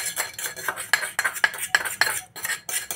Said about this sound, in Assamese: ধুনীয়াকৈ চামুচখনেদি মিহি কৰি লওঁ। তেনেকৈ চব পিনে লগাই ল'ম।